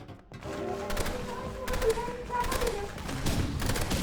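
Minigun fire from a zombie tower video game, rattling in dense, sustained bursts that swell and ease over a few seconds, with voices talking over it.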